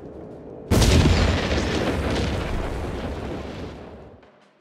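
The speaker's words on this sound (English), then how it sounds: "Artillery, get down." Artillery shells and explosions in the video game Company of Heroes 3: one sudden loud blast erupts, then a dense rumbling barrage of booms rolls on for several seconds before fading out.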